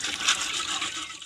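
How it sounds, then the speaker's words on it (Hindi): Tap water runs steadily into a metal cooking pot after it is washed, a continuous close splashing rush without pauses. "अब इसको धो के अब पानी भरे रहा है पतीले में।"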